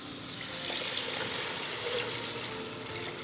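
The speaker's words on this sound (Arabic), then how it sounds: "هضيف له الميه عشان اسويه" Water pours steadily into a pot of seasoned rice being cooked for Egyptian koshari, a continuous close splashing rush with no talk.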